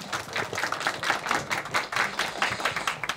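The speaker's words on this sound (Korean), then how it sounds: "큰 박수로 맞이해 주시죠" Audience applause welcoming a speaker at a 2015 Seoul village media forum; a small crowd claps steadily and fairly softly in a room for about three seconds, with no voices over it.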